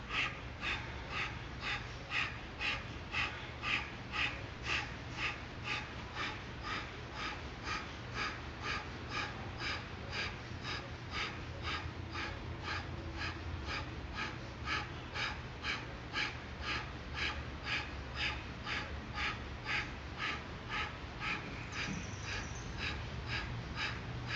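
Slow, steady deep breathing during a yoga session, rhythmic inhales and exhales repeating evenly and close by over a soft continuous background hum, with no talking.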